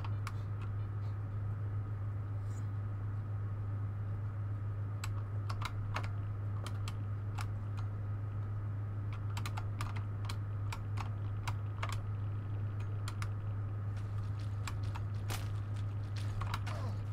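Rapid clicking keystrokes on a PC keyboard during a Stalker Call of Pripyat game session, fairly soft and irregular over a steady low hum, with no voices.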